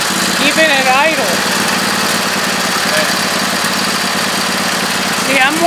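A Husqvarna YTH2448 riding mower engine idles steadily with a constant mid-pitched drone, loud and close, while someone talks over it.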